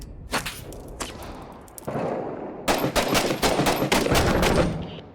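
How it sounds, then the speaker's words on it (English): Gunfire in the Six Days in Fallujah video game: scattered single shots at first, then rapid bursts of automatic fire, close and sharp, over a few seconds. "Shots west."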